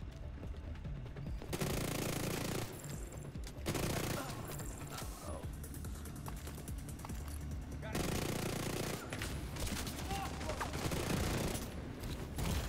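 Video game gunfire: loud, sustained automatic bursts of rapid shots that come in long stretches separated by short pauses.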